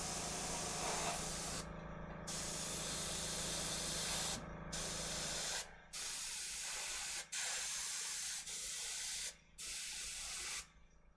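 An airbrush sprays paint onto a miniature in steady, close hissing bursts, each lasting a second or two and separated by short abrupt pauses as the trigger is released, with a faint low hum underneath.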